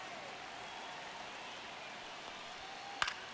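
Steady crowd murmur from a virtual ballpark in MLB The Show during a close ninth-inning Blue Jays vs. Dodgers game, a constant wash with a brief sharp crack near the end.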